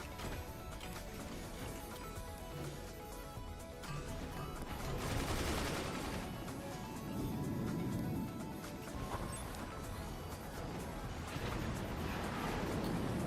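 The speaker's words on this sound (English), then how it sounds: "It's howitzers." Howitzer fire in the physics strategy game Forts, a dense wash of distant booming shots and crackling impacts that swells and rolls continuously, fairly faint and muffled, with no voices.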